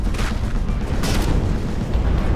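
Cram cannon shells from the naval combat game From the Depths slam home as two heavy, muffled booms over a constant low rumble, the first blast brief and the second broader.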